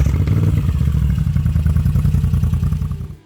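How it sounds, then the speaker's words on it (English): A Moto Guzzi V7 Stone motorcycle engine runs with a loud, close, pulsing low rumble and mechanical clatter, holding steady before fading out at the end. "Number 4. Moto Guzzi V7 Stone."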